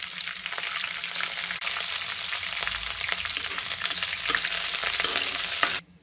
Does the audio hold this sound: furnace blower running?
no